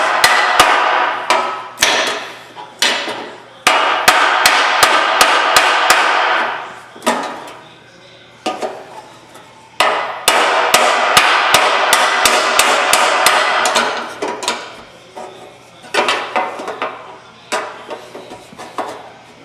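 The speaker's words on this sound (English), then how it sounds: "I'm hammering on this to push that back into place" Repeated metal hammer blows on a dolly against a severely creased car body panel ring out in fast bursts, sharp and close, with short pauses between runs of strikes.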